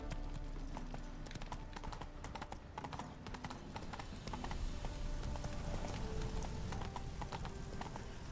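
A horse gallops in The Witcher 3: Wild Hunt, its hooves pounding in a fast, steady, close rhythm over a dense bed of game sound.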